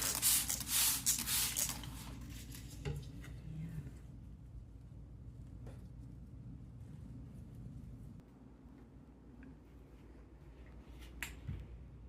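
Water sprayed onto a planter to rinse off dirt, a close hissing spray at the start giving way to quieter dripping and faint rustles.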